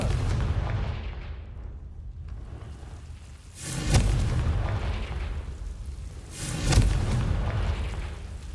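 Two heavy booms from the Confringo explosion spell in the Hogwarts Legacy video game, each with a sharp blast followed by a rumbling tail, spaced a few seconds apart over a low ambient drone.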